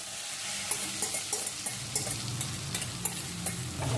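Beaten egg goes into okra frying in a pan, giving a steady soft sizzle with the light scrape and tap of a spatula stirring. Close and moderately quiet, with no talk.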